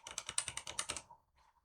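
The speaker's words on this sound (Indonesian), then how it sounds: "Kita ketikkan" Rapid clatter of keys on a computer keyboard as a switch configuration command is entered, about ten quick close keystrokes in a steady burst, then a brief faint pause and a few softer taps.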